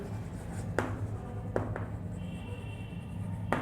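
Chalk or marker writing on a board in a Hindi-language physics lesson on mirror formulas, with steady scratchy strokes and a few sharp taps, close and alone over a low background hum.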